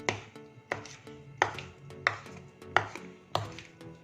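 Cake batter being mixed in a bowl to work out lumps of flour, with repeated sharp scraping knocks of the utensil against the bowl at an irregular beat, close and fairly loud, no talking.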